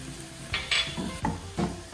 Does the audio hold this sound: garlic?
yes